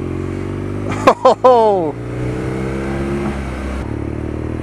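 A 2019 BMW R nineT Scrambler motorcycle on knobbly tyres revs loudly in a few sharp bursts, the engine climbing and falling before settling to a lower running note, while a rider exclaims briefly.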